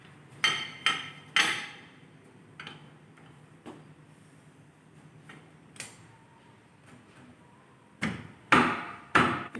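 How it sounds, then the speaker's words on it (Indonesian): Metal parts of a vehicle drum brake assembly clink and knock as brake shoes are fitted, with a few sharp taps at the start, scattered light clicks in between, and a cluster of louder clanks at the end. "Pertama kita memasang kampas dulu."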